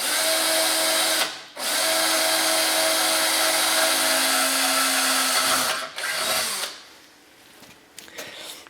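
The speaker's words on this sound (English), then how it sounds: "I'm going to drill it out with a smaller drill bit" A power drill boring holes with a small bit for mounting a Rough Country bumper wing kit on a 2023 Polaris Ranger 1000XP Crew, a steady loud whine lasting several seconds, a brief pause, then a shorter burst and winding down.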